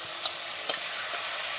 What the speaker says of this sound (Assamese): তেলখিনি গৰম হৈছে ইয়াতে মই থৈ দিছিলো মই ইয়াতে তেলত দি দিছো